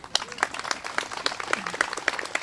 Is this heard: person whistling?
no